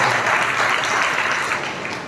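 A church congregation at a Sunday service claps together in steady, dense applause that fills the whole stretch, loud and close, with no clear voices on top.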